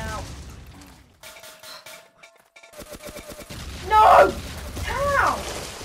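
Gunfire in the game Ace of Spades, bursts of rapid shots and cracks in the middle, followed by loud shouting voices.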